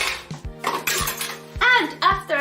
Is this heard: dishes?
yes